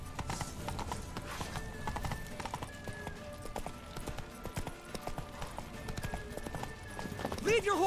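A horse gallops in The Witcher 3 video game with a rapid, steady clip-clop of hooves and a brief whinny near the end. Voices can be heard over the hoofbeats.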